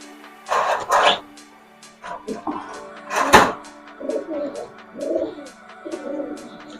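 Shiyalkuti pigeons coo close by in soft, repeated low bursts, mixed with some sharper flutters and scuffs early on.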